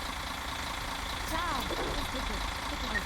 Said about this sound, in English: it's quite loud here by the engine